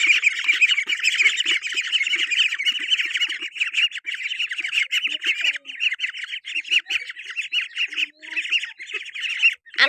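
A group of ducks quack and squawk nonstop while being fed, a dense, loud, overlapping chorus close by.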